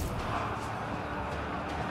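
Massed battle fire in the video game Total War: Pharaoh forms a dense, continuous rumble of overlapping volleys with no distinct single shots, steady and moderately loud throughout.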